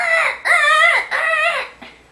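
A human voice imitates seagulls with three long, wavering, nasal squawks in a row, followed by a shorter, fainter call, loud and close with nothing else heard.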